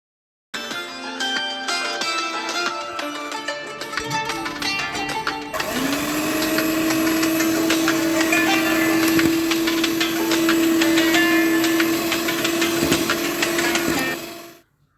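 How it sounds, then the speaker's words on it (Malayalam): An electric beater whirs steadily through powdered sugar for plum cake batter, starting with clattery scraping and then settling into a loud, continuous motor drone that cuts off at the end. "ശേഷം പൊടിച്ചു വെച്ച പഞ്ചസാര ചേർത്ത് ബീറ്റ് ചെയ്യുക."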